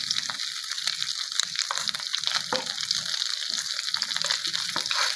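Pomfret fish frying in a pan, a steady dense sizzle and crackle of hot oil running throughout at close range with small pops and no talk.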